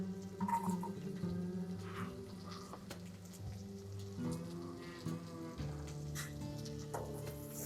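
Garlic and scallions sautéing in a pan for queso, a soft crackling sizzle that stays fairly quiet under steady background tones.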